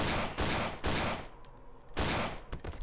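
Gunfire in the horror video game Cry of Fear: a few heavy, booming shots with long reverberant tails ring out in a short burst, fairly loud and alone without any talking.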